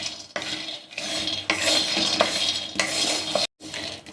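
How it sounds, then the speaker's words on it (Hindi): Peanuts dry roasting in a kadhai while being stirred continuously, with scraping, rattling clatter of nuts and spoon against metal in uneven bursts, close and moderately loud with brief pauses. "इसे डाल के हमें लगातार चलाते हुए ड्राई रोस्ट कर लेना है।"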